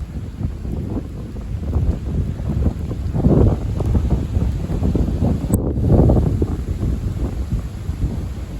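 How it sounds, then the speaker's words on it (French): Strong wind gusts buffet the microphone in a continuous, loud rumble that swells and eases, with no voices present. "Il y a encore des grosses rafales."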